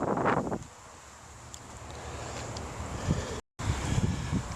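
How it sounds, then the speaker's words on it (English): A simple oil-burner furnace with an air blower roars steadily as it starts up. Wind buffets the microphone and gusts come and go, and the sound cuts out briefly near the end. "I've got the papers in the burner lit, so we'll throttle it up gently just to start"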